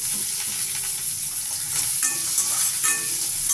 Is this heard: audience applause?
no